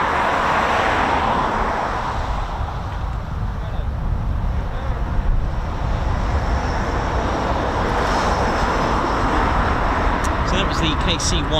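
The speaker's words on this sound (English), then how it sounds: "is the KC-135 Lager 5-1, which took off earlier today" A Boeing KC-135 Stratotanker flying near RAF Mildenhall, a broad continuous jet roar that swells and fades over several seconds, heard outdoors over wind noise.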